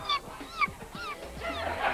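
A voice imitates a guinea pig with a quick run of short, high, squeaky calls, close and alone with no other sounds.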